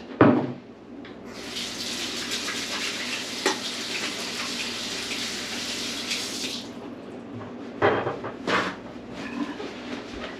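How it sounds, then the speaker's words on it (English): Hands are washed under a running kitchen tap, a steady close rush of water for several seconds that stops abruptly, followed by a few short splashes and knocks. "let me wash my hands"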